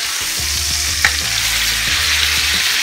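Chicken for chicken marsala sizzles loudly and steadily in a hot pan right after being flipped, a close, continuous hiss with a faint low hum underneath and no talking.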